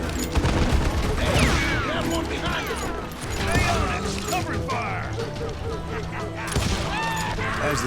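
Rapid gunfire volleys crackle through a Wild West shootout in the video game Call of Juarez: Gunslinger, sustained and loud, with shouting voices and music layered over the shots.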